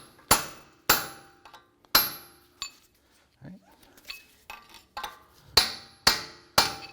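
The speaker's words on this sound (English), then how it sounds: "We're going to use a punch right in the middle and we're going to drive the CV axle shaft through the splines on the wheel hub" Sharp metallic hammer blows strike a punch to drive a CV axle shaft through the wheel hub splines of a 2004-2008 Acura TL. The strikes come in irregular bursts of two or three, with quieter clinks and handling noises between them.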